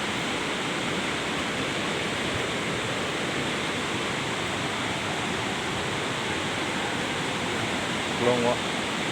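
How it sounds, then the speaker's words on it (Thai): A waterfall at Hin Nam No in Laos gives a steady, even roar of falling water, a constant broadband rush that never changes, with a faint brief voice near the end. "เสียงน้ำตก"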